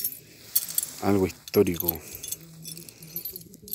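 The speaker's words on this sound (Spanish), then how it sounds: "En mis manos tengo las llaves del palacio de la hacienda de Quilpué, de San Felipe." Original palace keys from the demolished Hacienda de Quilpué are jangled in hand, producing bright metallic clinks in several bursts while someone speaks briefly between them.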